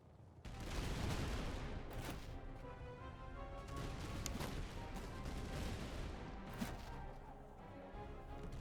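A battle in the strategy game Master of Command, where an army line fires a volley: dense crackling musketry and booming shots pile into a loud, continuous roar of gunfire lasting several seconds.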